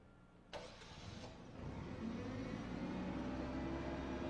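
A propane forklift engine starts with a sharp catch, then settles into a steady running drone that builds slightly and holds, close and even, with no talk.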